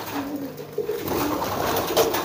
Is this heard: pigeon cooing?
yes